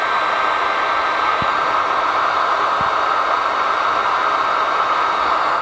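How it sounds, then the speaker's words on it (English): Heat gun blowing steadily to seal crimped butt connectors on wiring during an air helper spring compressor install, a constant loud airy hiss with no break and two faint clicks. "then we'll use a heat gun to seal up the butt connectors"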